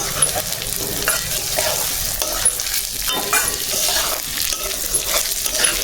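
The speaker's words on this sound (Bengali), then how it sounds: "ডাইল ভাজিয়ে নেবার দিচ্ছু বন্ধুগণ।" Dal lentils frying in a pan for Ekadashi khichuri prasad, a continuous dense sizzle with scraping stir strokes throughout, close and fairly loud, with no talking.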